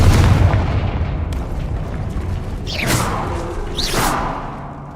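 Confringo spells bursting in Hogwarts Legacy: loud booming explosions, two of them preceded by sharp fiery whooshes a second apart, with rumbling low-end trailing off between blasts.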